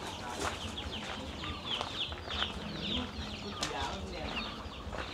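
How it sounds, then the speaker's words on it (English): A chicken clucks close by in a neighborhood yard, short scratchy calls scattered over steady outdoor background noise, with faint voices nearby. "Look at this chicken."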